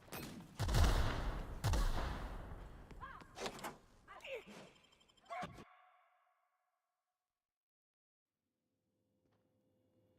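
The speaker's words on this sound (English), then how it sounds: "Did you have to open fire with a freaking grenade?" Video game combat: two heavy booming blasts of gunfire and a grenade go off close by, then scattered sharper shots and clatter follow before everything drops into silence.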